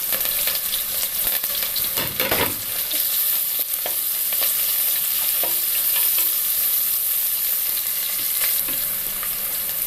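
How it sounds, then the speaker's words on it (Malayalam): Sliced shallots and curry leaves frying in hot oil with popped mustard seeds, a loud continuous sizzle with a spoon stirring and scraping through it, close up and without voices. "കടുക് പൊട്ടി അതിലേക്ക് ചുവന്നുള്ളി ചേർക്കാം. കൂടെ കറിവേപ്പിലയും കൂടെ ചേർക്കാം."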